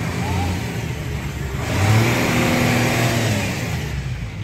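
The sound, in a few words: Suzuki Wagon R car engine revving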